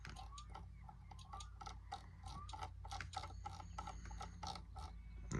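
Quick, evenly spaced metallic clicks of a ratchet wrench loosening bolts on a car in the video game My Summer Car, faint and steady over a low background hum with no talking.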